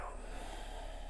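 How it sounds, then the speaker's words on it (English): A single soft, drawn-out exhale through the nose during guided meditation, faint and alone in a quiet room. "And exhale."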